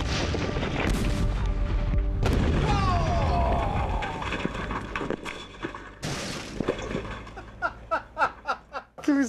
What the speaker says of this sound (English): the thud that comes out of it is so deeply guttural and still whoom kind of thud